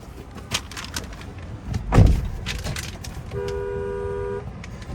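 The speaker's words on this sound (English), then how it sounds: "So there's the horn sound there" A 2017 Toyota Highlander SE sounds its car horn in one steady, sustained blast of about a second, heard close up inside the vehicle after a brief thump.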